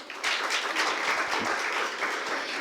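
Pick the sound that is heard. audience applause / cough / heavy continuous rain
audience applause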